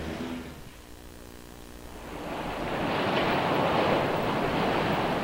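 Sea waves at Antofagasta surge and wash steadily with wind noise, growing louder after the first couple of seconds into a broad, continuous surf roar.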